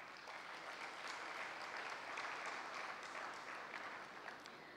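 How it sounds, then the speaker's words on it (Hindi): Hall audience clapping to honour a newly named chairperson of an art and culture wing, a steady, fairly faint round of applause heard from a distance that holds its level throughout. "ताली तो बजाओ।"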